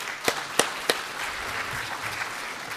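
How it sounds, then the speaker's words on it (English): A few sharp claps ring out, then soft scattered audience applause continues faintly in a large room. "give Ms. Whitaker a round of applause"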